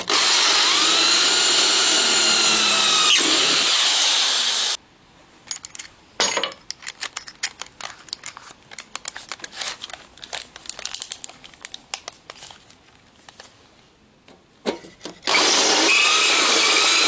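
A power drill bores holes into the interior of a Citroën Traction 11B being fitted with Xantia trim: a long close whirring burst, then scattered handling clicks and knocks, then another drilling burst.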